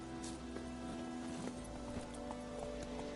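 Roach, a horse in The Witcher video game, with steady hoof clip-clops under a dense layer of game ambience and music, fairly close and even in rhythm.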